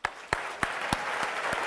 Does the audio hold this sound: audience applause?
yes